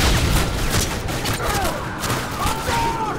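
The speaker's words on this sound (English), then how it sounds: "Oh, grenade!" Grenade explosion and gunfire in Call of Duty: Modern Warfare 2 Special Ops on Veteran difficulty, a dense rumbling blast with crackling shots, continuous and loud, with voices talking briefly over it.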